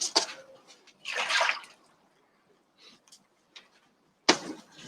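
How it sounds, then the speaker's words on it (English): Hands washed under a running tap in a home kitchen after coating oranges in spices and sugar, with short bursts of splashing water separated by quiet gaps, close and moderately loud. "I just wash my hands"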